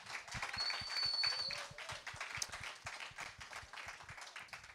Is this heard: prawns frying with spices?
no